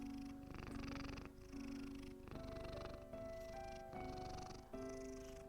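A cat purrs steadily close up, in a rhythmic cycle of inhale and exhale pulses roughly every second, soft and alone with no talking.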